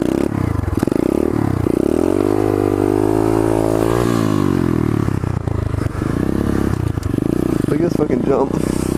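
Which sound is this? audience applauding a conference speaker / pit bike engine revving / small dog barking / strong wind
pit bike engine revving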